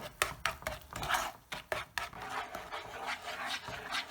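A boxwood wooden spoon stirs and scrapes melting sugar in a pot, a series of rhythmic rubbing, rasping strokes with soft knocks, close and fairly quiet, no talk.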